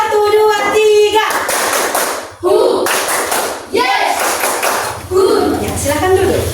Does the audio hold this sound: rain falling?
no